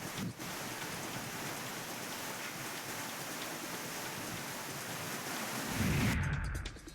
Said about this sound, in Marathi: पूर्व आणि पश्चिम किनारपट्टी भागात मुसळधार पाऊस झालाय